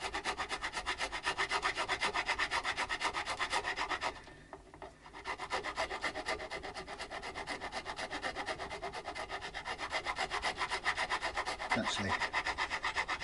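Material being filed out of a nut slot during a Hohner HG430 guitar setup, rapid rhythmic close rasping strokes that pause briefly in the middle, then resume steadily to the end.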